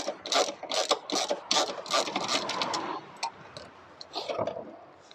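A 10mm bolt being run out of the inner shield of a Ford Mondeo ST220 with a ratcheting tool, giving quick bursts of close ticking clicks that pause and resume.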